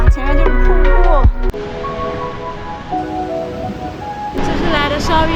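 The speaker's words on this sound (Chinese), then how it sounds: "前面听到声音吗？ 前面就是瀑布。" Calandula waterfall in Angola roars as a steady broadband rush that fills the middle of the clip, with a voice and other sounds heard over it at the start and end.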